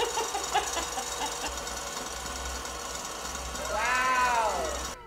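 An electric mixer beating egg whites while sugar is gradually added for macarons gives a steady, close whirring drone that holds throughout and swells slightly near the end.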